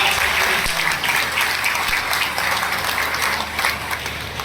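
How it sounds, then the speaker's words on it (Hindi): An audience at an AWPL gathering claps loudly, a dense and steady wall of applause that stays full and even for the whole stretch with no one talking over it. "जोरदार ताली बजाएं"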